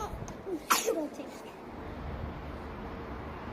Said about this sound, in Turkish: Hapşırdın mı sen